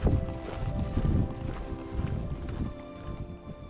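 A horse trots steadily during groundwork training, its hooves clip-clopping in a continuous close rhythm with no talk over it.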